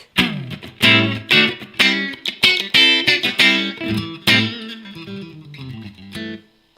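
A Harley Benton electric guitar in the in-between pickup position plays a quick, bright run of picked notes and strummed chords, loud and close, ending on a ringing chord with no voices.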